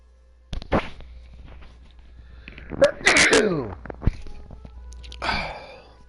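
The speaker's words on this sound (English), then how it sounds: "Gonna sneeze." A single loud sneeze with a sharp inhale before it, followed by a short sniffle, close to the microphone with quiet gaps around it.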